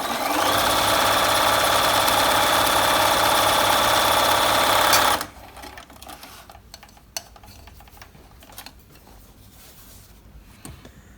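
A Bernina 1130 sewing machine runs a steady, loud zigzag overlock stitch for about five seconds, then stops, leaving quiet handling clicks and faint rustling.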